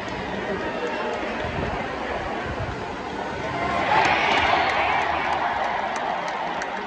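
Crowd at a Twins opening day baseball game, a broad wash of chatter and cheering that swells louder midway, with voices mixed throughout.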